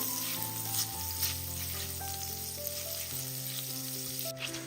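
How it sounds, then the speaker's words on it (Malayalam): Butter melts and sizzles in a hot pan over a lowered flame, a steady soft frying hiss under sustained musical tones throughout, with no talking. "പാനൊന്ന് ചൂടായതിനു ശേഷം ഫ്ലെയിം ഒന്ന് കുറച്ച് വെച്ച് കൊടുക്കുക, അല്ലെങ്കിൽ പെട്ടെന്ന് തന്നെ ബട്ടർ കരിഞ്ഞു പോകും. ബട്ടർ ഒന്ന് മെൽറ്റ് ആവട്ടെ."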